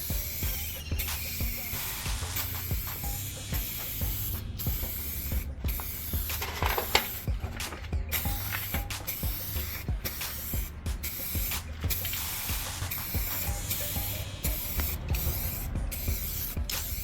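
Spray paint dust coat going onto Nissan Skyline R34 interior parts, a close, steady aerosol hiss in repeated bursts separated by short gaps, with no talking.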